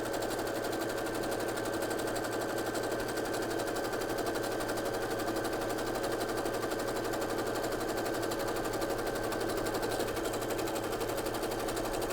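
A sewing machine with a cording foot runs steadily while stitching elastic thread on a zigzag stitch, a rapid even mechanical hum and chatter held close and alone for the whole stretch.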